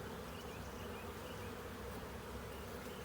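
Honeybees buzz continuously at an open beehive, a dense, even drone of many insects close by with no talk.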